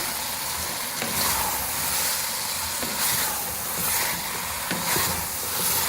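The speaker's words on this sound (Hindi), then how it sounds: "इसको दाल के साथ भूनेंगे तेज आंच पे।" Ridge gourd cooking with moong dal in a pan over high heat produces a loud, continuous sizzle and hiss at close range. Occasional stirring scrapes break through it, and no one speaks.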